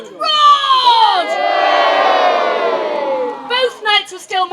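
Spectators at a Robin Hood festival joust let out a loud, sustained roar that swells and holds for a few seconds, then breaks into scattered individual shouts.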